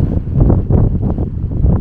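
Strong wind buffets the microphone inside a volcanic crater on Lanzarote, a continuous loud rumbling roar with gusty surges throughout.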